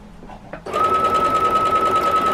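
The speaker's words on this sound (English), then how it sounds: "So just continue stitching it all the way down, keeping that 1/4 inch seam" Sewing machine stitching a jelly roll quilt block with a quarter-inch seam, starting after a brief pause and then running steadily as a loud, even, close motor whir with no talking.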